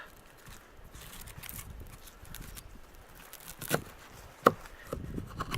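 A knife chops an onion into big chunks at an outdoor bushcraft cooking setup, giving a few sharp, separate cuts over a quiet, rustling background.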